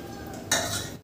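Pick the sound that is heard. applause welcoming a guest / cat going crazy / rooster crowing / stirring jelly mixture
stirring jelly mixture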